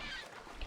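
Birds calling in the video game Assassin's Creed Odyssey, a short honking, goose-like cry over a steady background bed, moderately loud and heard alone.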